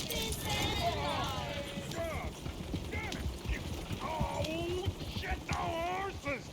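Horses in Red Dead Redemption 2 clip-clopping at a steady trot, hooves thudding close under a busy town backdrop, with occasional whinnies and people talking over the scene.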